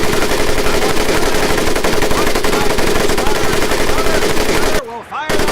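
Rapid machine gun fire from the video game Medal of Honor: Pacific Assault, a loud, dense, continuous burst of shots that cuts out abruptly near the end.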